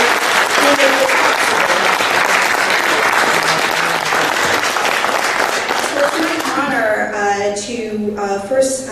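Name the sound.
applause for runners and their families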